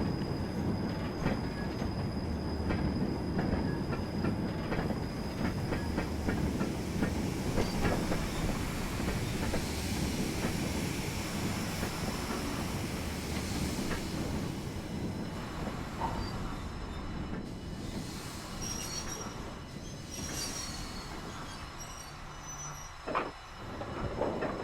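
An NS8800 class austerity 0-6-0 steam locomotive with its train rolling in Train Simulator, a continuous loud rumble with clickety-clack of wheels on rail joints and occasional squeals and clanks, no voices.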